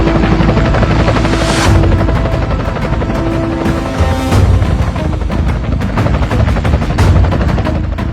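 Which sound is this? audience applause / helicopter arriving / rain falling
helicopter arriving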